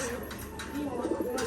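A Dobaj pigeon coos in its cage, a low, soft, rolling call close to the listener that rises a little partway through, over a steady background murmur.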